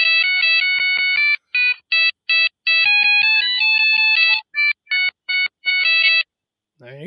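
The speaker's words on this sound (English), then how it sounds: "Sounds like an alarm clock, right?" A cell phone ringtone blares loud and close in bright, rapid electronic beeping bursts with short gaps, much like an alarm clock; a voice starts at the very end.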